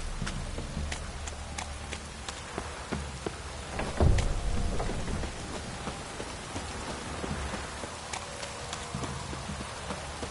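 Steady video game rain patters on surfaces throughout, with hoofbeats clopping along underneath and a brief louder thump partway through.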